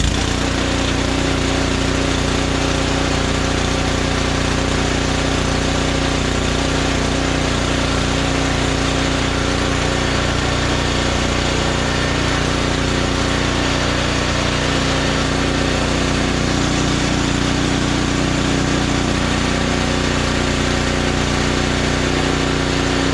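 A Powersmart 26-inch snow blower with a 212cc engine runs in a garage, a loud, steady, close small-engine drone held for the full length with no voices.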